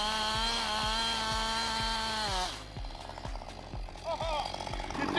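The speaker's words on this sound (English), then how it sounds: "I know how to use a chainsaw" A chainsaw runs at a mountain-bike dirt park build, its engine revving high and then dropping to a rougher, uneven idle, with regular ticking pulses throughout.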